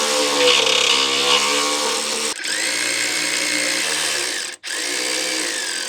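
A power drill runs steadily, whining and loaded as it drives bolts to fasten aluminum plates onto a Jeep's front bumper, with two brief pauses in a loud, continuous run.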